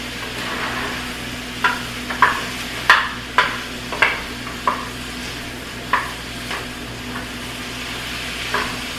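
Water and oil heat in a pan before a steak goes in, a low steady sizzle under a series of about a dozen sharp, evenly spaced taps and clinks at close range.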